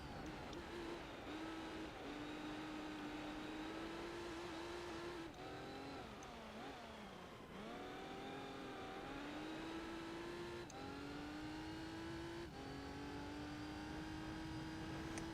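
Gran Turismo 3 race car engine droning and revving continuously, with repeated pitch climbs through the gears and brief drops at shifts, loud and steady with no talk.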